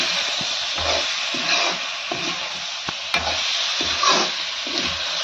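Meat curry is stirred in a frying pan, the spoon scraping in repeated strokes over a steady, close sizzle of frying masala.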